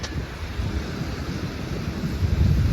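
Floodwater pours under a bridge in a constant, loud, broadband rush, heard up close and mixed with rumbling wind buffeting the microphone, with no voices.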